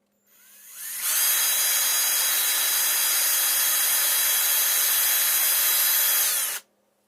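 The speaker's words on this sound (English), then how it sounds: "Our first hole has been drilled, first pilot hole, so to speak." A power drill bores a pilot hole for a Huina Timber Grabber mod, spinning up after a brief start and holding one loud, steady, high-pitched whine for about five and a half seconds before stopping abruptly.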